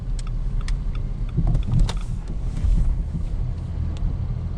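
Steady low road and tire rumble with wind noise inside a 2015 Dodge Journey SXT driving at normal road speeds, a continuous broadband drone without talk.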